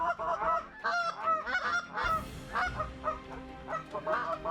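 A flock of geese honks loudly and repeatedly as it flies toward a waterfowl hunting spot, overlapping calls coming in quick, uneven bursts close by.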